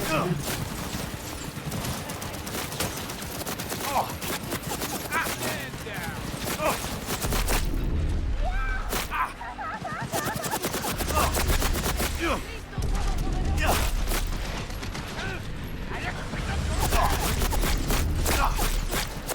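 Gunfire in the Cyberpunk video game, with sustained clattering shots and impacts layered over game noise and bursts of low rumble, loud and continuous, while a person talks at intervals.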